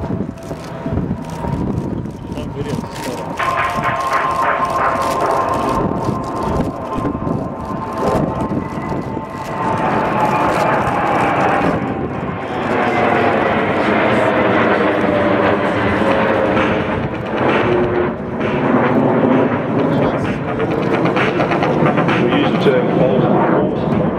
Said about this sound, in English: the KC-30, the pair of Australian F-18s attached on the refuel, running in from the south